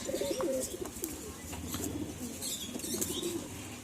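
Domestic homing pigeons coo steadily in a loft, several birds overlapping in low rounded calls with faint chirps and rustling behind them, fairly close and continuous.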